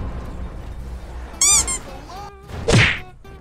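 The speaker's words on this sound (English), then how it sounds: "Goku can stop a train." A cartoonish impact thunks hard against a train in a GTA 5 game scene, with a squeaky rising whine before it and a loud heavy hit near the end.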